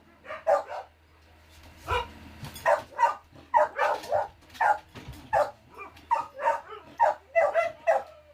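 A dog barks repeatedly in close, loud bursts of yips and barks, about a dozen in quick irregular succession, with no talk over them.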